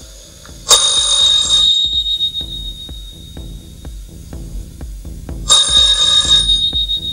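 An old-style telephone bell rings loudly in two bursts, each about a second long with a pause between, over a quiet ticking background.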